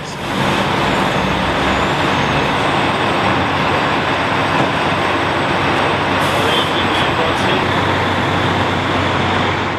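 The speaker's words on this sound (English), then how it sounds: "the buses head for the training grounds across Indianapolis" Buses carrying firefighters drive across Indianapolis, a loud, steady engine and road rumble heard from inside the vehicle, with no clear breaks.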